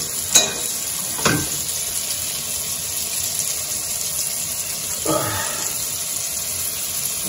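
Onion and garlic frying in a pan for broccoli soup, a steady close sizzle broken by a few scraping stirs of a utensil, with no talking.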